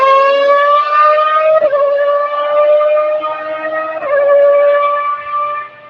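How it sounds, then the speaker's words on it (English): A Formula One car engine at Monza wails at a high pitch, a loud, sustained tone that dips briefly as it shifts gears, then climbs again. "Just an excellent Formula One sound there at Monza"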